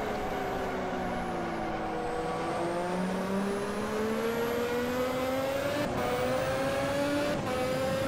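Racing cars lapping a track in the sim racing game Automobilista with 1988 Formula 1 cars, engines droning steadily and close with rising pitch as they accelerate, with brief sharper passes as lapped traffic goes by.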